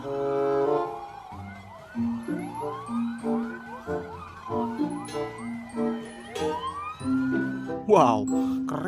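A toy ambulance plays a loud electronic siren, its repeating wail sweeping up and down across several cycles with chiming tones mixed in, close by, with no talk over it.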